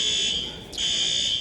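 A loud, steady high-pitched electronic alarm tone sounds in an airport terminal, holding level with a brief dip in the middle before resuming.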